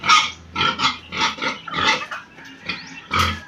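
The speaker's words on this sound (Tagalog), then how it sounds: "Ito po yung alaga namin baboy." Pet pigs in a farm piggery grunt and squeal in repeated overlapping bursts, loud and close, several animals calling at once.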